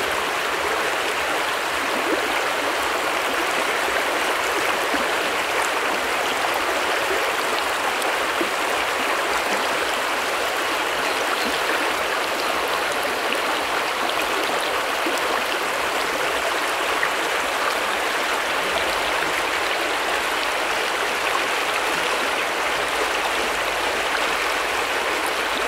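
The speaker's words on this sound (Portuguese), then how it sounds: "Vamos abaixar um pouquinho aqui para mostrar para vocês o barulho da água" Water in the Paramirim River rushes and babbles steadily and loudly for the whole stretch, a constant broadband flow with no speech.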